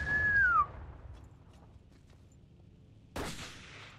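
A single loud gunshot in the video game Battlefield 1942 opens the moment, with a falling whistle-like tone trailing off, then quiet rumble before a second sharp blast lands near the end.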